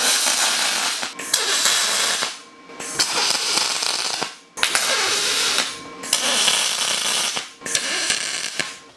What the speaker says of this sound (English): We can go ahead and get this welded out